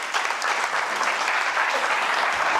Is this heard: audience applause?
yes